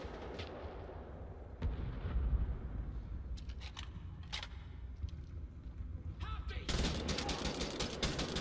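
Gunfire in the video game Wolfenstein: The New Order, with scattered sharp shots and short bursts over a dense rumbling battle background, ending in a louder stretch of rapid fire.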